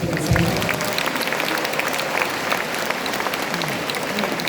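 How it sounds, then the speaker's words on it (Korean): Applause from a congregation at a Catholic Pentecost retreat in a church hall, a dense steady patter of many hands filling the space, with a brief voice near the start. "박수 쳐주세요."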